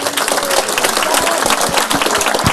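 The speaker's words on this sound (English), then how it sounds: "clapping is traditional in the United States" An audience applauding at the end of a Buddhist talk at Spirit Rock in Woodacre, California, giving steady, dense clapping from many hands that fills the room throughout.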